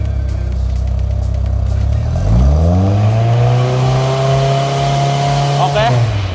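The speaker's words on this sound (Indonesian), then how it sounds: "nah ini coba kita naikin gas sedikit" Modified Mitsubishi Lancer Evolution 8 MR engine idles with a deep exhaust rumble, then the throttle is opened and the revs climb and hold high, loud and close, dropping back briefly near the end while a voice talks underneath.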